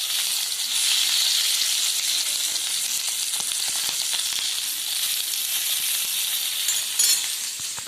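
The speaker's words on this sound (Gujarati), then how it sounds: "તો મરચાં તળાય છે." Green chillies stuffed with gram flour fry in hot oil, giving a loud, continuous sizzle with scattered crackles and a brief clink near the end, and no talking.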